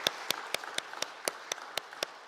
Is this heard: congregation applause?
yes